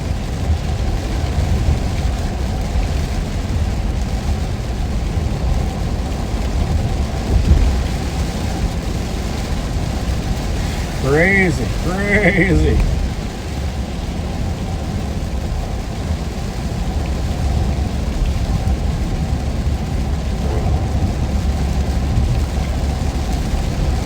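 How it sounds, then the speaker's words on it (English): Heavy rain pours down steadily during a thunderstorm in Kansas City, a dense continuous wash with low rumbles of thunder, while a man briefly exclaims partway through. "Man, look at the rain coming down."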